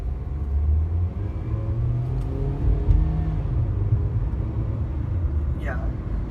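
A 2018 Hyundai Grand i10 1.2 Kappa automatic accelerating, a low steady engine rumble heard from inside the cabin that rises slowly, with a broad road noise bed and no talking.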